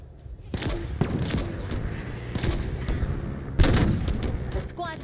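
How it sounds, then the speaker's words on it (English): Electrical grenades explode during Halo Infinite combat: several sharp, loud bursts at intervals over continuous gunfire and battle noise, with a whining electrical crackle near the end. "They're lobbing grenades!"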